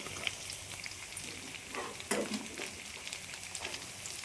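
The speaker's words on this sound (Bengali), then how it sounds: "পেঁয়াজগুলো দিয়ে হালকা করে ভেজে নেব।" Onions and garlic frying lightly in oil in a home kitchen, a steady faint sizzle with occasional stirring scrapes and a small louder crackle midway, no talking.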